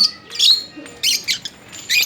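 Pet lovebirds in a colony call out with sharp, high chirps and squawks in several short bursts, close by and fairly loud against a quiet background.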